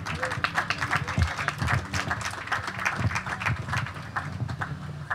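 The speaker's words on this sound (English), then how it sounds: "How about another round of applause for all of our speakers?" An audience at a panel discussion during a Lā Ho‘iho‘i Ea gathering in Honolulu applauds its speakers, the claps close and brisk, with voices mixed in.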